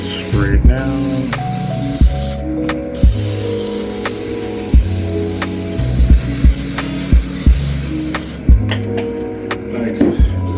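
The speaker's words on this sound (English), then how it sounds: "got my baking pan, just gonna spray it down" Aerosol cooking spray hisses steadily onto a baking pan, continuous and close, with light clicks and background music underneath.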